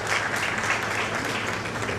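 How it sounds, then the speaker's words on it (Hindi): Audience applause welcoming a speaker at a memorial tribute gathering, a dense, even crowd clapping that stays loud and steady with no gaps. "जोरदार तालियों से उनका स्वागत है।"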